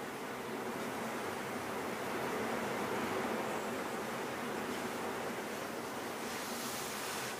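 Wind blowing steadily outdoors in daytime, a broad, constant rushing hiss with mild swells, fairly loud and alone, with no voices.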